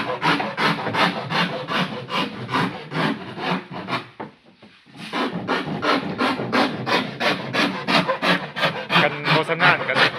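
Sandpaper scrubs over wood in fast, regular back-and-forth strokes, loud and close, with a brief pause midway before the rhythmic rasping resumes.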